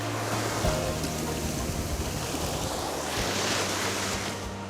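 Ocean surf rolls onto a beach after a storm, a continuous broad wash of breaking waves with wind buffeting the microphone, loud and close throughout.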